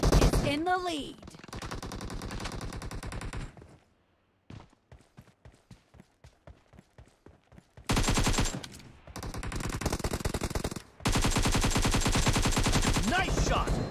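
Rapid automatic gunfire in PUBG Mobile, long dense bursts of loud close shots broken by a stretch of sparser single shots, with a voice talking over parts of it.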